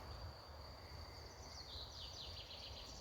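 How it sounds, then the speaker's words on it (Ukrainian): A very large honeybee swarm gives a faint, steady outdoor buzz, joined by a thin high insect-like tone and a few distant bird chirps. "Бачите, скільки бджіл."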